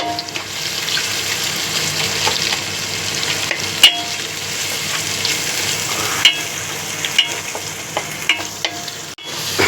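Garlic sizzles and crackles steadily in a hot pan throughout, with occasional sharper clinks and scrapes as it is stirred, close and fairly loud, no voices.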